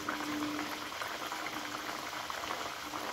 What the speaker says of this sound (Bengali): সবগুলো আমি একই রকম করে ভেজে তুলে নেব।